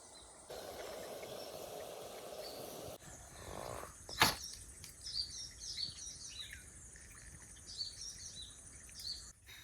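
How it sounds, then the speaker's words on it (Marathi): Birds calling at an evening campsite, repeated short chirps and tweets at moderate distance over a low insect hum, with a brief loud knock partway through. "पक्ष्यांचा आवाज मस्त संध्याकाळच्या टायमात जबरदस्त फिलिंग"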